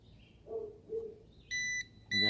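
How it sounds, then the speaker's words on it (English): A Ruko F11PRO 2 drone controller gives a few soft low tones followed by two loud, sharp electronic beeps while connecting, close and clear, in an otherwise quiet setting. "you hear it beeping until it connects"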